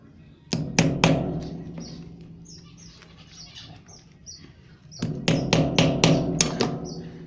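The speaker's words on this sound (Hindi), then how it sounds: "इसको सुराख को ज़रा बड़ा कर लेते हैं थोड़ा सा, ताकि कील आसानी से जा सके इसके अंदर।" A nail is hammered to widen a small hole in a clay pot, heard as two bursts of sharp, close taps, a few strikes early and a quicker run of about six later. Birds chirp faintly in the background.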